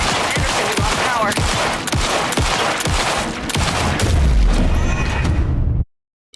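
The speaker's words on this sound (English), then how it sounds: "Anderson, pin him down with gunfire for me to get the light on him." Gunfire in the video game Alan Wake 2, rapid volleys of shots cracking in quick succession with heavy low booms, loud and continuous before cutting off abruptly into silence.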